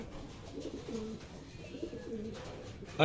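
Racing pigeons coo in a loft with soft, repeated low rolling calls, a steady background murmur of several birds at moderate distance, with no talking.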